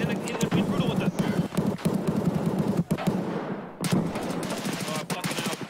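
Rapid automatic gunfire from the shooter game Escape from Tarkov bursts repeatedly in sharp, loud volleys with brief pauses, mixed with game noise and overlapping player voices.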